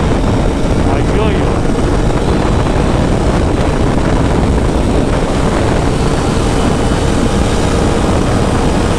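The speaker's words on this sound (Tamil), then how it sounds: "ஐயோ வண்டி என்னடாப்பா 180 போகுது" A motorcycle riding at about 180 km/h, a steady loud roar of wind and engine throughout, with a voice faintly under it.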